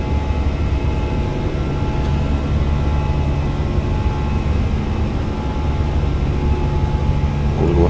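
Airplane climbing out after departure from Dubrovnik, a loud, steady engine and airflow roar heard from inside the cabin, unbroken and even for the whole stretch with no talking.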